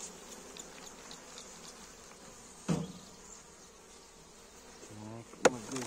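Honey bees buzz steadily at an open hive in early spring, a continuous insect drone with a couple of brief clunks of hive equipment being handled.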